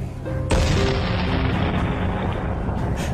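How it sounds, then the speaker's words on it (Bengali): A loud bomb blast bursts in close by after a brief lead-in, then gives way to a long rumbling, roaring decay that lasts several seconds. "বিকট বিস্ফোরণের শব্দ কোথাও কাছেই।"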